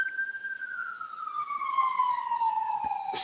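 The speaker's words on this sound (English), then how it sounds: "That siren and all that." A police siren wails in a slow falling tone, moderately distant, with faint street noise and a sharp sound near the end.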